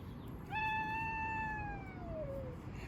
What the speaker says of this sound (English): Oh, because of that cat.